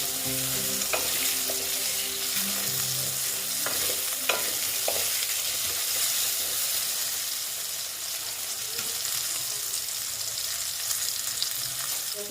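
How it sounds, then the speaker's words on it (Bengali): Potatoes with a little turmeric frying in a pan, a steady, even sizzle that carries on throughout, with occasional light taps and scrapes of a spoon. "আলুগুলো মাঝে মোটামুটি আমার ভাজা হয়ে গেছে"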